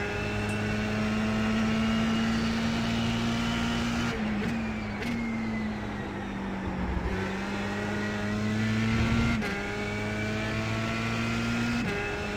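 A race car lapping Donington GP in iRacing, its engine droning loud and close with rising pitch sweeps through the gears and sharp drops at each shift, repeating across the lap.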